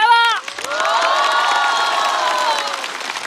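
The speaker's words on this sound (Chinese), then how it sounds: "再次把热烈的掌声送给张俊" A studio audience at a stand-up comedy show cheers and applauds for comedian Zhang Jun in a loud, sustained roar of crowd noise with whoops, after a short musical sting.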